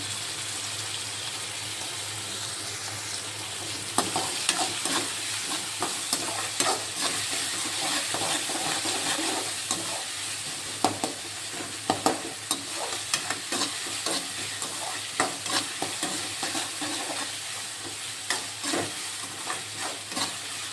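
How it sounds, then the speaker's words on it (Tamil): Onions frying in oil for vada curry, with a steady close sizzle and frequent spatula stirring and scraping against the pan, and no voices. "நல்லா கோல்டன் ஃப்ரை ஆகட்டும்."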